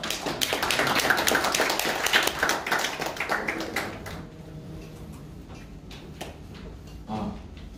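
A seminar audience at a blockchain event claps in welcome, a dense patter of many hands that thins after a few seconds into scattered individual claps.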